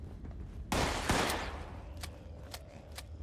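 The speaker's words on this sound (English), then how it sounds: "Oh, I'm hearing gunshots, so somebody else is in here with me." Several gunshots in a video game ring out, a loud burst followed by a second blast, then a few sharper, fainter shots spaced apart over a low ambient hum.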